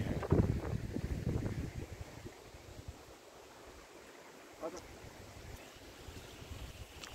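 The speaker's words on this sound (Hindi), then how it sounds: "काफ़ी वेग से ये जलधारा यहाँ से प्रवाह कर रही है" A fast stream of water rushes at Ranthambore Fort as a faint, steady broadband rush mixed with wind buffeting the microphone.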